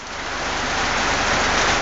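Rain falls steadily on a river in Argentina during a fishing trip, a dense, even hiss of drops that swells slightly louder over the short stretch, with no one speaking.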